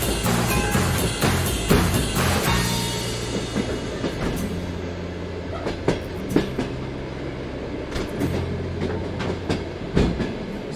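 A train in Russia rolls along the rails with a continuous rumble and repeated clattering clicks and thumps from the wheels, loud and close, with no voices.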